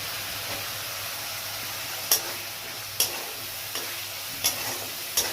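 Spice paste fries in hot oil with an even, close sizzle, broken every second or so by a brisk scrape of the spatula against the pan.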